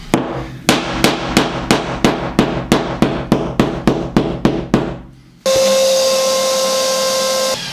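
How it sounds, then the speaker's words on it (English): Hammer taps making small indents around screw holes in a wall surface being prepared for filling, about a dozen sharp evenly paced blows, close and loud, followed by a steady droning hum. "I'm just going to hammer just a little indent around them"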